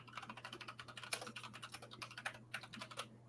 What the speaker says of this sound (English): Typing with my little Tippy tippy tap tap